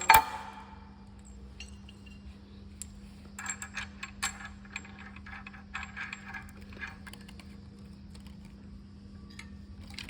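Sonardyne acoustic release being assembled: faint scattered metallic clicks and taps as a lever slides up and a bolt is inserted, over a steady low hum, close and quiet with no talk.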